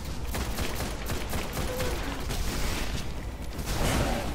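Gunfire in the video game Destiny: a dense, continuous clatter of rapid shots and impacts, loud and busy throughout with no clear pauses.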